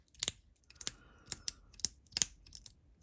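A handheld fidget toy gives about seven sharp, close plastic clicks in an uneven rhythm, isolated against a near-silent background.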